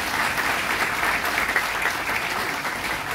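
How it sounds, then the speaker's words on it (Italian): Steady, sustained applause from an audience at a book presentation honoring soldiers fallen or missing in the Second World War, dense even clapping throughout with no voices above it. "a cui io farei ancora un grandissimo applauso."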